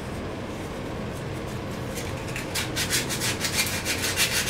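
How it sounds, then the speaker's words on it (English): Coarse 60-grit sandpaper worked by hand over a winglet, a steady dry rubbing that grows louder and more rhythmic halfway through, with repeated back-and-forth strokes close up and no talking. "Now to get out the heavy-duty sandpaper,"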